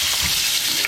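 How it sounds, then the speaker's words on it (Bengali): Whole tomato frying with potatoes in hot oil, a steady, dense sizzle that stays loud and close without a break and with no talking. "গোটা টমেটোটা দিয়ে দিচ্ছি। আলুর সঙ্গে টমেটোটাও ভাজা হবে।"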